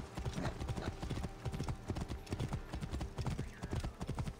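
Horse hooves clip-clop at a steady trot in Assassin's Creed Origins, a continuous run of close, even hoofbeats.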